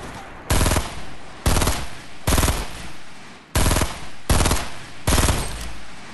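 Loud automatic gunfire from a Fortnite Battle Royale match comes in six rapid bursts separated by short pauses, each burst close and sharp, with no talking.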